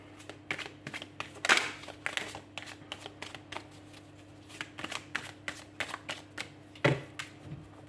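Cartomancy cards being handled and laid down during a tarot reading, a steady run of soft papery slaps and riffling flicks at close range, with no talking.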